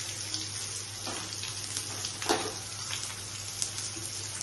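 Curry leaves drop into hot oil for a Bengali chana dal tadka, giving a soft, steady sizzle and crackle with a brief louder burst of spitting, heard close with no talking.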